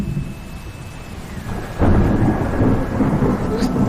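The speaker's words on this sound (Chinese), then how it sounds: "怎么下雨了？" A sudden heavy downpour with rumbling thunder opens up in an ancient Chinese drama scene, the broadband roar swelling abruptly midway through after a quieter start, steady and close, with no talking.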